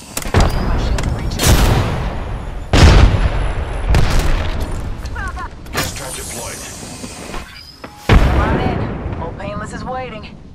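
Apex Legends combat with heavy booming gunshots and explosions in loud, spaced bursts, a crackling rumble between them, and in-game voice callouts heard over the action.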